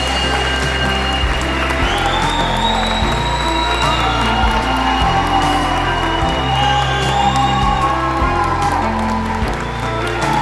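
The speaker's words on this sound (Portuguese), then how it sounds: "sendo aplaudido em pé por todos os presentes" An audience gives a standing ovation with sustained, dense applause and scattered cheers filling the room at a competition, where a young boy has just won first place in his category, steady and loud throughout.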